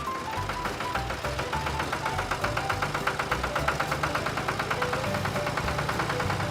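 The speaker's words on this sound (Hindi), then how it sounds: "चलो चलो, अपने ट्रैक्टर को लेके चलते हैं" A toy tractor engine runs with a steady, rhythmic chugging and knocking throughout, loud and close, with no voices.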